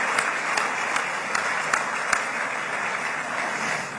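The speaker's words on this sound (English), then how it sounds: "I want to clap for that one." Audience clapping at a Gaza deal signing event in Egypt, a steady wash of applause with a few sharper individual claps standing out, moderately loud and continuous for the whole stretch.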